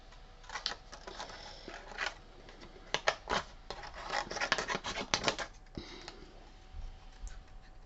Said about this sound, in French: attention à la découpe avec mon ciseau qui est tout pourri